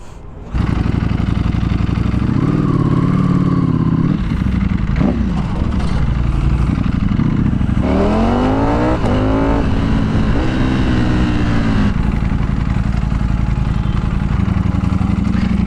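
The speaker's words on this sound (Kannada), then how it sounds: "ಸುಮಾರು ದಿನಗಳಾದಮೇಲೆ ಮತ್ತೆ ಬೈಕ್ ಸೌಂಡ್ಸು" A Ducati Panigale motorcycle engine revs close by, rising and falling in strong bursts over a loud, continuous rumble, with no one speaking.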